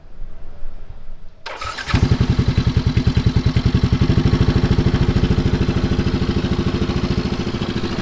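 A 2017 Yamaha NMAX scooter with nearly 60,000 km on an old fuel pump cranks briefly. It then catches and settles into a loud, close, steadily pulsing idle with a rattly edge.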